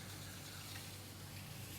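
Water washing over a wet sponge pressed against a clay mug on a potter's wheel, a faint steady rushing, gushing wash with no talk.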